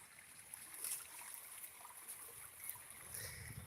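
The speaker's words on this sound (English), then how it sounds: "I love the sound of water." Flowing water of a stream beside a hiking trail, a soft steady trickle and gurgle, faint and close, with no talking.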